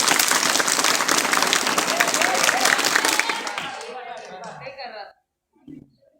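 A group of students claps hands together in a dense, loud burst that lasts several seconds and then stops sharply, followed by a few scattered voices and brief talk.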